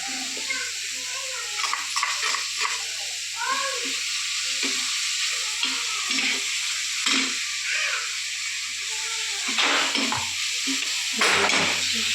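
Green chillies frying and being stirred in a hot pan in a home kitchen, giving a continuous loud sizzle with repeated scraping stir strokes and occasional clinks of the utensil against the pan.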